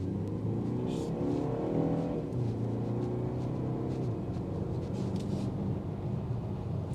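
A 2026 BMW X1 xDrive28i pulls away under acceleration, its engine and exhaust note climbing in pitch over the first two seconds, then settling into a steady, moderately loud drone with a constant road rumble underneath.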